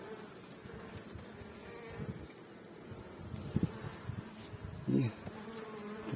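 Honey bees buzzing around an open hive with frames of brood in early spring; a steady close drone with individual bees flying past the microphone, plus faint rustling.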